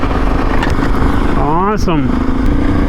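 A gifted motorcycle in good, smooth-running condition keeps up a loud, steady engine drone close by, with a brief rising tone in the middle and a voice speaking over it.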